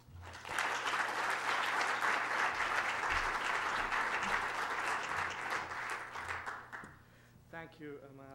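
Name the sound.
audience applause welcoming a keynote speaker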